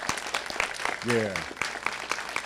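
A graduation ceremony crowd claps for a graduate, scattered sharp handclaps ringing out in an auditorium while a voice briefly calls out over them.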